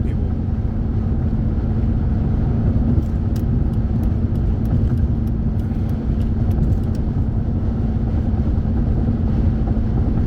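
Inside a car driving along a road there is a steady, loud low rumble of engine and tyre noise, with faint ticks and rattles and no talking.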